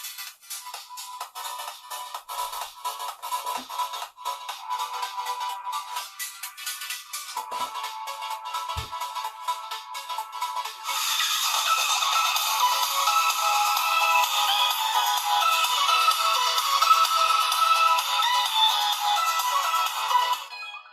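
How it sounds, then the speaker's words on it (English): A phone ringtone plays steadily, thin and tinny at first, then grows noticeably louder and fuller halfway through as if amplified. "Let's see if it can amplify the phone sound."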